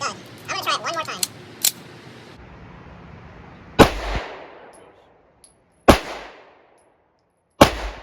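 A Smith & Wesson SD9VE pistol at the range, with three sharp loud reports spaced about two seconds apart, each ringing out and decaying, after someone speaks briefly at the start.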